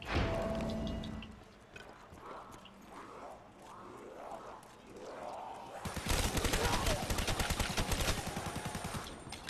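Ray Gun Mark II firing in Call of Duty Black Ops 3 zombies on the remastered Nacht der Untoten map: a run of rhythmic energy-weapon shots, with swooping zaps early giving way to dense, loud rapid fire.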